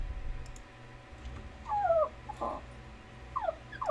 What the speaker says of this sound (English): Oh, my poor little baby dog.